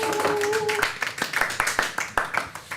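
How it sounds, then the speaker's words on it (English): A few people clap at a World Cleanup Day broadcast event, producing a sparse, uneven patter of hand claps after a short tone fades. "Round of applause."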